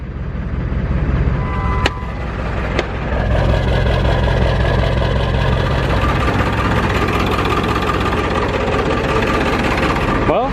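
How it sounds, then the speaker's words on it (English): A diesel truck engine runs loud and close with a rough, uneven idle, a steady rumble lasting about ten seconds with a couple of sharp clicks near the start. "the truck doesn't run good anymore. It's misfiring very bad"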